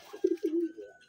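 A pigeon gives one short, close, throaty coo that rises and trails off in a soft rolling sound.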